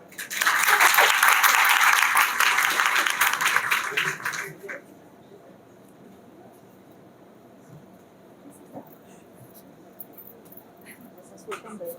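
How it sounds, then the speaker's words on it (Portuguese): Audience applause at a zootechnics symposium in Ceará, a loud sustained burst of clapping for about four seconds that cuts off, followed by quieter room noise and faint voices. "Salve de palmas"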